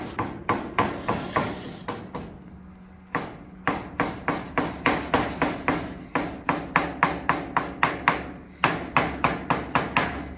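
A knife chops cooked potatoes for krompir on a cutting board in steady, rapid strokes, sharp repeated knocks with one brief pause, close and alone without talk.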